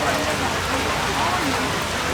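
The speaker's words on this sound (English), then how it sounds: "it is properly raining now" Heavy rain pours steadily at a ferry loading area, a dense close wash of drops hitting surfaces with no break, with a voice speaking faintly under it.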